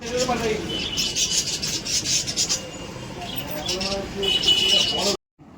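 Lovebirds chirping and twittering in bursts close by in a pet shop, with rough rubbing noises mixed in, ending abruptly in silence.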